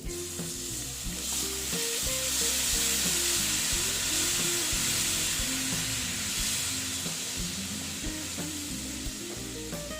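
Besan batter frying in a pan, steady sizzling and hissing with occasional stirring clinks, close and even throughout.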